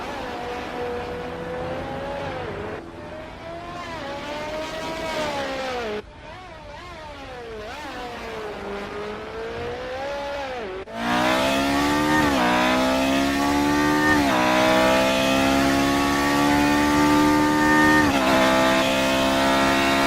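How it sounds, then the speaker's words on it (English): A high-revving V12 Formula 1 engine screams through gear changes, pitch climbing and dropping repeatedly, loud and continuous with no talking. "so you guys can hear this glorious V12"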